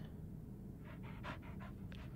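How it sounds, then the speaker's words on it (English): A dog panting outdoors, about half a dozen quick, breathy pants in a rapid rhythm, faint and slightly distant against a low background hum. "Oh, that's a dog."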